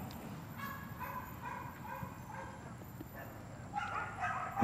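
American Pit Bull Terrier barking and yipping in a series of short, excitable bursts at moderate distance, over steady background noise.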